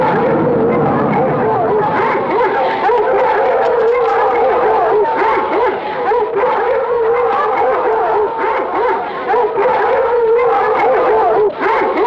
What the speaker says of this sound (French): Lâchez toute la meute!